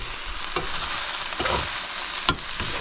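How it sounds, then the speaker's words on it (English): Continuous sizzling of spices frying in a hot pan in an RV kitchen, a steady hiss with a few sharp crackles and pops. "You hear it sizzling."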